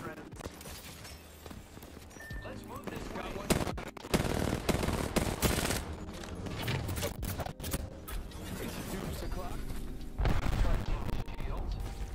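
Rapid bursts of video game gunfire, including machine gun fire, crackle loudly and repeatedly over busy game effects, with a person talking at times.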